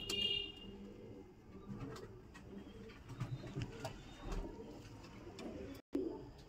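Pigeons coo softly at a pigeon care shelter, low murmuring calls repeating under a busy background of rustling and faint chirps, fairly close.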